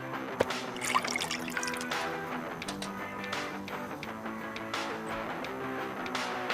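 Water poured into a tank in the video game Deponia, a short trickling and gurgling pour set against soft background music.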